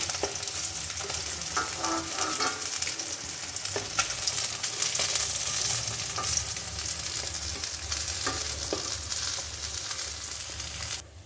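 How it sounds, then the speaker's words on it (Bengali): Rohu fish pieces fry in a pan of oil, producing a loud, dense, continuous sizzle and crackle up close, with occasional stirring scrapes throughout. "আমার মাছগুলো কিন্তু লাল লাল করে ভাজা হয়ে গেছে এবার আমি মাছগুলোকে তুলে নেব"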